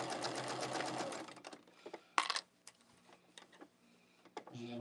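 Domestic sewing machine stitches a quilt border in a quick burst of rapid needle clatter, then falls to short stops and starts with handling clicks nearby.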